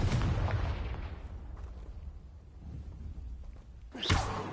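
Confringo blasting spell in the video game Hogwarts Legacy, a loud booming explosion that decays into a rumbling tail, followed by another sharp blast near the end.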